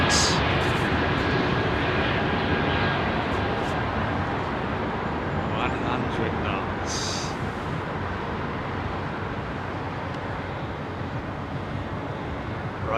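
An airliner taking off from Heathrow runway 27R, a loud sustained jet engine roar close by that eases slightly over time, with faint voices underneath.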